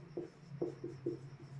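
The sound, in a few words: writing the solution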